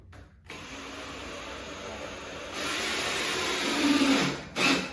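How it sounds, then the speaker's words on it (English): A power drill whirs steadily into wood, the grinding hum rising louder midway before briefly cutting out and starting again. "And then we're gonna drill this part in."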